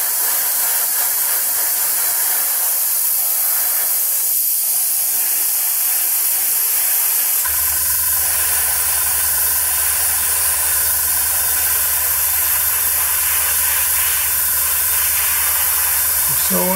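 Airbrush spraying primer paint onto a miniature, a continuous close hiss of air and paint that grows louder and steadier about halfway through, joined by a low hum.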